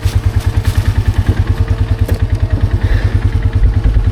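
A four-wheeler rides a storm-damaged trail, its engine throbbing in a loud, rapid, regular chug close by, with occasional clatter and thumps.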